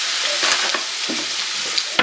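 Leftover pasta with black pepper fries and sizzles steadily in a pan, with soft scraping stirs of a utensil breaking through the constant hiss, close and alone.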